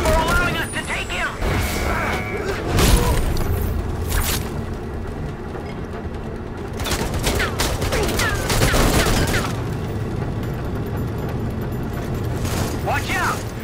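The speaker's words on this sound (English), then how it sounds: "Concentrate fire on the enemies shooting at Lycus!" Firefight from the video game Raiders of the Broken Planet, with dense bursts of gunfire and heavy impacts booming across a busy battle scene, mixed with voices and mechanical clatter throughout.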